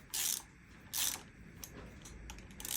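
A ratchet tightens the bolts on a BMW M52 engine water pump, giving two loud bursts of rapid clicking followed by fainter, scattered ratcheting clicks close by.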